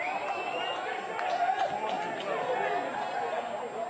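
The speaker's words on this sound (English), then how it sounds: "And that's brought the crowd alive." Crowd at a local AFL Sydney football match between Sydney University and North Shore stirring after a big mark, a thin, distant murmur of chatter and calls, with a commentator talking over it.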